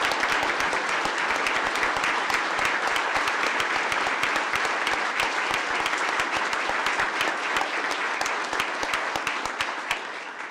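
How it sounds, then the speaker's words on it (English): Sustained standing applause from a large crowd at a city council meeting, steady and dense for several seconds before tapering slightly at the end. "we should all stand and applaud him for that service"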